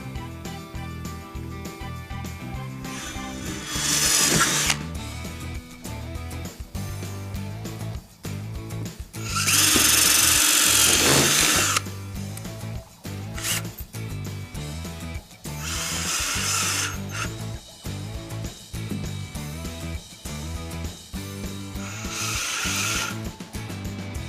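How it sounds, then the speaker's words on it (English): A power drill whirs in several separate bursts, pre-drilling into aluminum inside a PVC rail, with steady background music running throughout. "There is aluminum inside there, so we're going to want to pre-drill"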